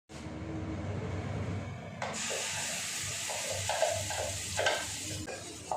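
A green pea stuffing is fried in a pan with asafoetida, chili and ginger. A soft hiss swells into a louder, steady sizzle, with repeated stirring scrapes and clatters close by.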